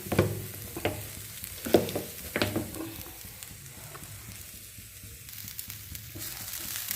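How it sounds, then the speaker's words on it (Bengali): Grated coconut being roasted in a pan for pitha, with scraping stirs and soft sizzling, a few sharper spoon-on-pan knocks early, then a quieter steady frying hiss. "নারকেলটা একটু ভাজা ভাজা করে নিলাম।"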